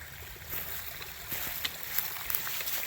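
A stream running right alongside the Coulee Glen Trail on the Long Trail, its steady broadband rush and trickle carrying on without a break, with faint brief splashes standing out now and then.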